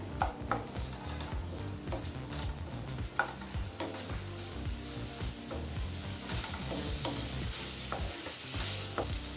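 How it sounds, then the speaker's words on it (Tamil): Tomatoes sautéing in a pan for moong dal sambar, a soft continuous sizzle broken by repeated scraping and stirring strokes of a spoon against the pan, close but fairly quiet, with no talk. "இப்போ தக்காளி நல்லா வதங்கிடுச்சுங்க."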